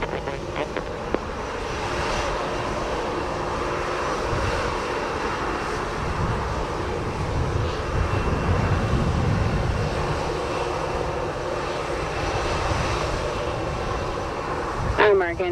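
An airliner flying past during an aborted landing at Montego Bay, Jamaica, a broad sustained jet roar that swells and fades, with air traffic control radio chatter running underneath.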